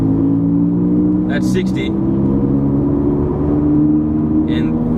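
Worn wheel bearing on a Ford Falcon XR6 droning as the car drives at steady speed, a constant low tonal hum over road noise, with a voice briefly speaking.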